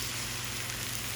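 Sauce sizzling as it hits hot fried rice in a wok for Thai-style fried rice, a steady close crackling hiss throughout.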